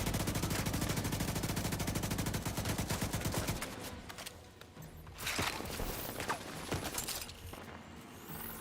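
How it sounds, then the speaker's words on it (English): Rapid automatic gunfire in The Division 2, loud and dense for the first few seconds, then thinning into scattered shots and impacts over a lower background din. "They're still landing shots at me."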